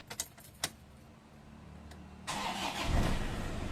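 A few metallic clicks, then a Toyota Hilux pickup engine with an oil leak and low power cranks and catches at about two seconds, settling into a steady, loud rumble as it idles.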